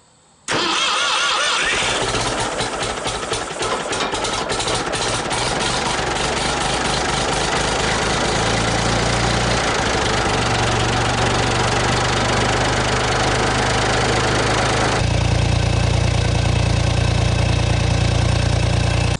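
A Ford 4000 tractor engine with a repaired exhaust cranks, catches and settles into a steady, loud idle, then deepens into a heavier low rumble near the end.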